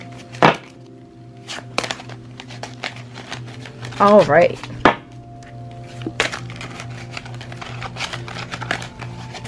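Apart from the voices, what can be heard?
shuffling tarot cards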